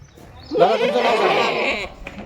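Kathewadi goats bleating in a long, loud, wavering call close by, with faint background noise and another animal stirring near the end.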